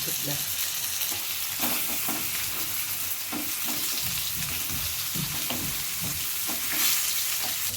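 Pomfret fish coated in green masala fries in a pan, a continuous moderate sizzle with frequent small crackles and pops, close and steady with no talking.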